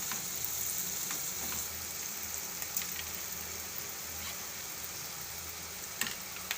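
Chopped capsicum sautés in oil with salt, making a continuous soft crackling sizzle, like light rain, with occasional faint spatula taps against the pan.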